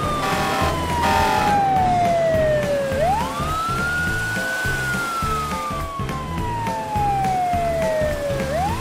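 A loud police siren wails in long rising and falling sweeps over traffic rumble, continuing without pause.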